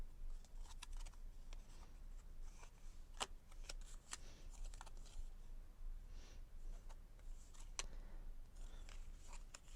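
Tarot cards handled close up at low volume, a series of soft riffles, taps and papery slides as the deck is gathered and put away, with no one speaking.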